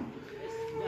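A cow moos once, faint and drawn out, as cattle, both cows and sacrificial bulls, are weighed and loaded onto a truck.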